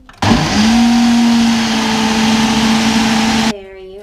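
A blender blending a green smoothie, run from an appliance power converter while abroad, gives a loud, steady motor whir for about three seconds before it cuts off abruptly.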